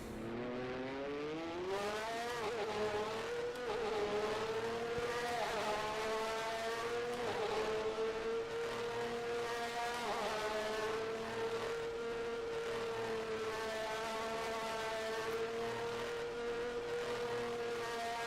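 F1 race car engines in the racing game rFactor 2, a loud continuous high-revving whine rising and falling through gear shifts, with other cars faintly underneath and no speech.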